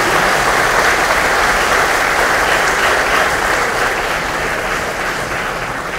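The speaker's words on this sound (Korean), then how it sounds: "큰 박수 부탁드리겠습니다." Loud, dense applause from lawmakers gathered at a Democratic Party workshop at the National Assembly, a sustained wall of clapping that holds strong and fades slightly toward the end, no voices over it.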